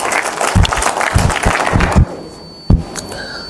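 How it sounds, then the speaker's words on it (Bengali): An audience at a presentation gives a burst of loud clapping for about two seconds, then it cuts off, followed by near-silence and a single sharp knock. "একটা জোরে করতালি।"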